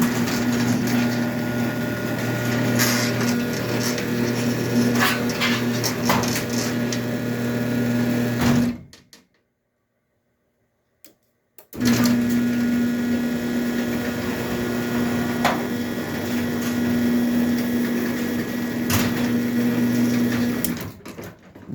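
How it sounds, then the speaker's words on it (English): A Challenger CH-1000 machine runs with its motor driving a big plastic gear that carries a sprocket, giving a steady, close whirring hum that stops briefly midway and then resumes. "The motor literally just goes up to a gear, a big plastic gear, and that plastic gear has the has the sprocket on the top of it."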